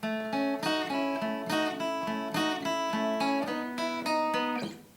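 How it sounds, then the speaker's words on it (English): Guitar in open G tuning plays two closing bars of chords with careful, specific notes, a steady pattern of ringing strums heard up close with no voice, fading out at the end. "So those last two bars will sound like this"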